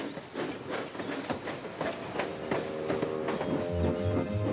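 Toy Thomas & Friends steam engine Henry rolling along the track, a rhythmic clattering chug with faint hiss and a whistle-like tone, close and moderately quiet with no talk.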